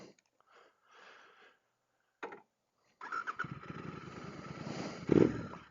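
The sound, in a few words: Royal Enfield GT Continental 650 with S&S 865 big bore kit, exhaust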